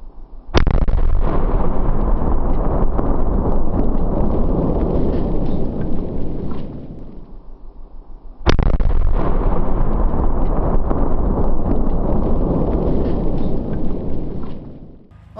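Two loud explosions of charges set against a concrete wall, each a sharp blast followed by a long rumbling roar that slowly fades, heard one after another.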